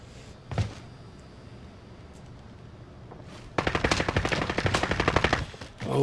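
Rapid machine gun fire in the video game Warzone, a long burst of tightly spaced shots after a quieter stretch with one earlier isolated shot, loud and close.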